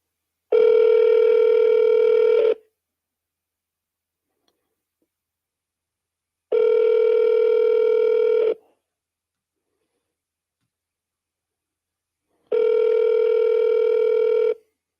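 Outgoing telephone call ringing back: three long, steady tones of about two seconds each, evenly spaced by roughly four seconds of silence, clear and loud with no voices.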